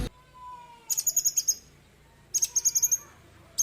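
A magpie robin sings two bursts of rapid, high, whistled notes separated by a pause, clear and fairly close against a quiet background.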